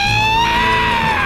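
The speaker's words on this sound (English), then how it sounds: "that's a Screech" A loud, sustained shrill screech in the style of a Pokémon move sound effect: a steady high-pitched tone with a dense stack of harmonics, continuing unbroken for just over a second.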